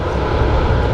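An airliner at Manchester Airport roars steadily and loudly throughout, a dense, continuous jet engine rumble with no break or voices.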